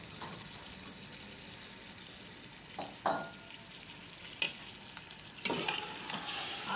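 Chana dal and mutton fry and get stirred in a pot, a continuous sizzle with a few sharp scraping and clinking stirs of the spoon against the pot, close and clear.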